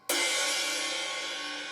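One crash cymbal hit from the Mixwave Gojira metal drum plugin: a sudden bright wash of shimmering noise that sustains loudly and fades only slightly over under two seconds, heard alone.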